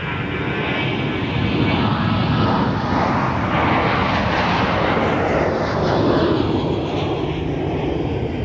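A Delta airliner takes off from runway 30 left at Minneapolis–Saint Paul airport, producing a loud, continuous engine roar that swells slightly and holds for the whole stretch, with no talk over it.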